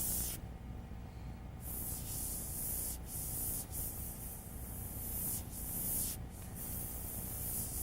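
An airbrush sprays paint in a steady, soft, continuous hiss, with brief interruptions where the trigger eases off.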